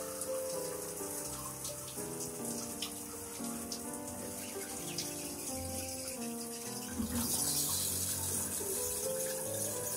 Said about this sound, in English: I'm gonna turn on the hot water as it drains.